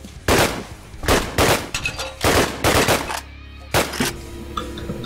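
Gunfire in a video game, a series of sharp, loud shots in quick irregular bursts with short gaps between them and a faint ringing tail.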